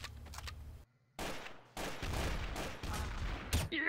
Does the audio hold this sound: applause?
no